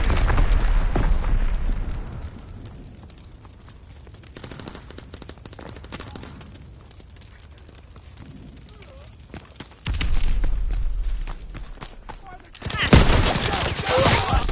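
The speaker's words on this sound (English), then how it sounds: "Incoming! Get to cover! Sending mortar rounds." Mortar rounds exploding in a PS4 shooter game, with heavy booming blasts and crackling gunfire-like bursts, a loud opening, a quieter stretch, then two sharp renewed bursts near the end.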